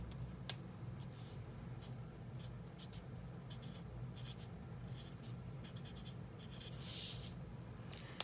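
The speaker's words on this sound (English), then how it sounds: "So here we'll write income." A pen scratches across the paper of a Happy Planner page while a finance header is written. The strokes are quiet, close and intermittent, with short scratchy bursts over a soft background hiss and no talk.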